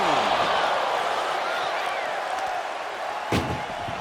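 A single ambulance door slams in WWE 2K25 during a wrestling match, one sharp bang late in the clip over steady crowd roar and an announcer's commentary.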